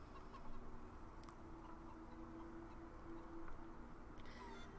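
Video game chickens from Divinity: Original Sin 2 cluck softly and steadily over a low ambient hum, with a few brief higher calls near the end.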